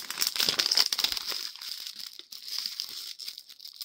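Thin tissue paper crinkles and rustles continuously up close, a crisp, papery crackle with no voices.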